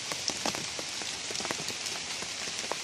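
Steady rain patters densely on a surface nearby, with scattered sharper drops over a constant hiss and no voices.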